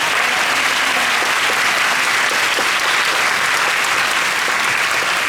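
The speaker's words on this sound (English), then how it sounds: "how about a round of applause for all the hard work of everyone involved?" A large audience of about 900 applauds at a Disney 100th anniversary fireside chat at Hong Kong Disneyland, with dense, steady clapping that stays loud throughout.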